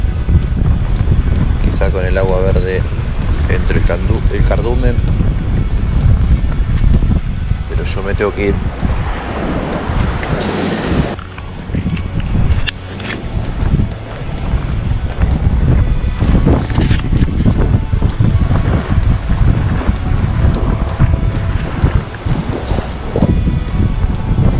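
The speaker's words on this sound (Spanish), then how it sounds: "ahora está rotando el viento" Strong wind buffets the microphone on a seaside fishing pier at Mar de Ajó, a loud continuous roaring rush with gusts, while someone talks over it.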